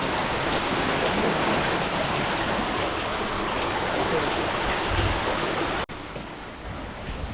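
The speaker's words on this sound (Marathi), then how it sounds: "बाहेर पाऊस पडते ना पाऊस डेंजर पाऊस पडते" Heavy monsoon rain pours steadily over a flooded tidal creek in a dense, continuous hiss, with a brief cut near the end before the downpour resumes.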